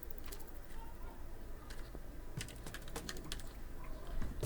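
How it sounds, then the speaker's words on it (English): Quiet keystrokes on a computer keyboard tap in short irregular clusters while writing Excel VBA code, faint beneath a steady background hum. "Hit enter key on the keyboard."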